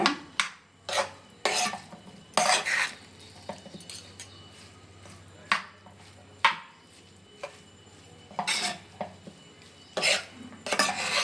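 A rice dish, hurulu chitranna, being stirred with salt in a pan: repeated scraping and clinking strokes of a spoon against the pan, a dozen or so close, irregular bursts over a low steady hum, with no talk.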